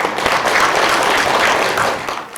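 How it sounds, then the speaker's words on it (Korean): An audience at an economic forum and newspaper anniversary ceremony in South Korea gives a sustained round of applause, a thick, even patter of many hands that holds steady and then eases slightly near the end. "다시 한번 큰 박수 부탁드립니다"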